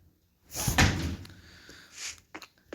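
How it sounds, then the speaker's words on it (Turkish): A wooden door shuts in Minecraft with a single solid thud, followed by quieter clicks and small knocks near the end, close and moderately loud with no talking. "Kapıyı kapat."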